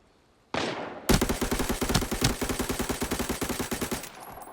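Automatic gunfire in the shooter game Arena Breakout: one short muffled burst, then a loud sustained volley of rapid, evenly spaced shots lasting about three seconds before cutting off, with no talking.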